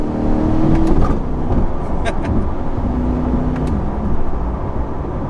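A Chevrolet C8 Corvette Stingray Z51 accelerates, its engine a steady, fairly loud drone with rising tone heard from inside the car, with road noise alongside.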